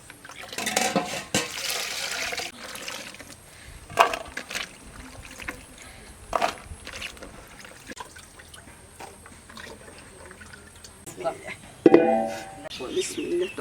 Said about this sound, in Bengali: এখন তরকারিগুলো ধুয়ে নেব।